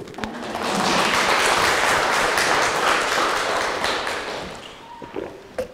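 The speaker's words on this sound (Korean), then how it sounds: "박수를 잘 치시네." A lecture audience in Gumi applauding together, loud sustained clapping that swells in, holds steady for several seconds, then thins out into a few scattered claps and taps.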